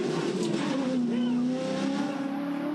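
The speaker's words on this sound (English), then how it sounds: "he did have a hung throttle in qualifying Matty Nolan. Okay, that looks similar. We could hear it. It was up on the limiter" A V8 Supercar ute engine held on the rev limiter by a hung throttle during a crash at a 2016 V8 Utes race, a sustained steady high-pitched drone under commentators' talk.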